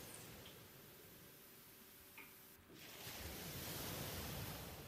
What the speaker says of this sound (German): Höre das Rauschen des Meeres.